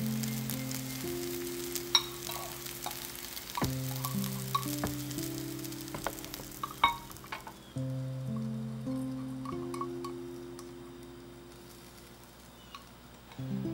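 Sliced garlic and soaked rice stir-fry in a pot with a soft crackling sizzle broken by sharp clatters of a utensil against the pot, all under a droning background hum.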